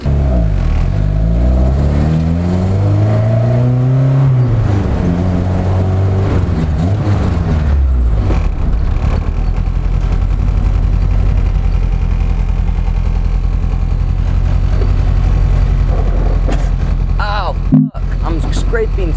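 A Honda CB7 track car fitted with individual throttle bodies drives along, its engine note rising and falling through revs early on, then holding a steady loud drone with a sharp dropout near the end.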